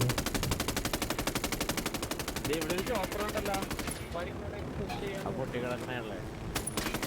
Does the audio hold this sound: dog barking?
no